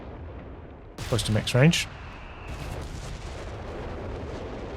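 Artillery fires near maximum range in the Company of Heroes 3 video game, a single heavy boom followed by a rumbling tail, with someone talking over it.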